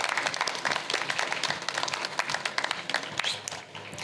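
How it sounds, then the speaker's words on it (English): Audience applause fills a community fair opening program, dense steady clapping from a crowd that fades toward the end. "Another round of applause for Steve and Karen."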